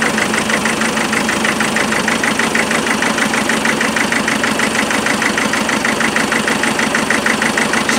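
A 2.5 naturally aspirated engine with a misfire idles loudly and close by, running without fan or cowling, with a rapid, uneven chugging pulse that stumbles now and then, running steadily throughout.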